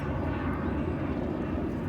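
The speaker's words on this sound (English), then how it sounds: "there's a loud airplane going by" A loud airplane passes overhead, a steady low engine roar filling the whole stretch with no letup and no speech over it.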